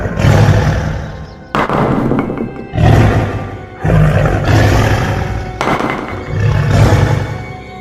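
Several deep, forceful roars from a tiger, four or five long bursts separated by short pauses, loud and close.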